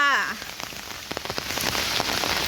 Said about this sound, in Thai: ฝนตกตั้งแต่คืนนี่พี่น้อง